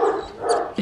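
A Great Dane puppy about eight weeks old gives a short bark-like yip nearby, a brief burst with a whimpering edge.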